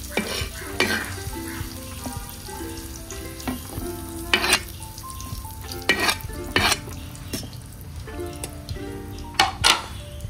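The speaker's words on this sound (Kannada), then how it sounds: "ಮೆಣಸನ್ನು ಕೂಡ ಇದರಲ್ಲಿ ಹುರಿದು ಬರ್ತಾ ಇದ್ದೇನೆ" Chillies roast in a pan while Mangalore-style anjal fish head curry is cooked. A steady frying sizzle runs throughout, broken by frequent scraping stirs and clinks of a spoon against the pan, close and clear.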